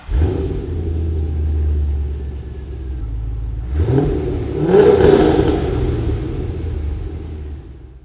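A C5 Corvette Z06 engine with aftermarket exhaust cranks and fires up with a sharp burst, settling into a deep, throaty rumbling idle, loud and close, with no talking.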